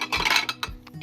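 Metal camping pots, one nested inside another, clink and clatter as they are handled, with several bright, close knocks in quick succession and no talking.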